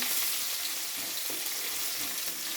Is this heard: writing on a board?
no